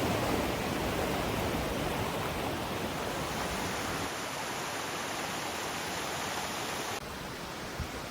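Small creek and waterfall on Mount Rainier along the Wonderland Trail, a steady broadband rush of falling and running water that fills the scene continuously, close and even in level with no voices.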